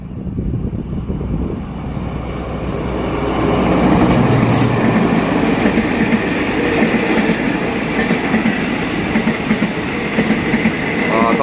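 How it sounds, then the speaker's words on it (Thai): A freight train, special service 985, rumbles past close by at Ban Khu Bua station in Thailand, a steady heavy roar of wagons with faint rhythmic clatter and squealing metal, growing slightly louder midway. "มีรถไฟมานะครับ น่าจะเป็น 985 หรือเปล่านะครับ รถ พิเศษสินค้านะครับ"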